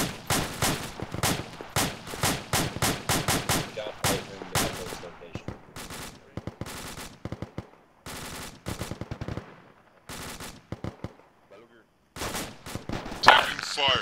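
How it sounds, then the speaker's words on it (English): Gunfire in an Arma military game: rapid bursts of automatic fire in tight clusters, loud and near, broken by short gaps and sparser shots, with a louder crack near the end. "Taking fire. Where'd that shot come from?"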